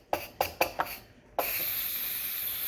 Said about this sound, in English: There's not much pressure left in it. There's hardly any steam coming out.